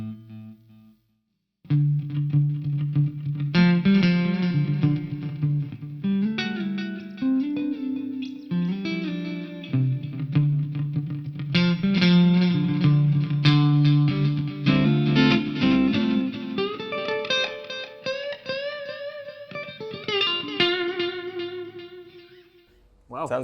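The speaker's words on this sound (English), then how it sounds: "this was like our clean with some delay and reverb" Clean electric guitar through a Donner Arena 2000 multi-effects unit with delay and reverb, picked notes and chords ringing out with echoing trails, after a brief silent gap at the start, and fading out at the end.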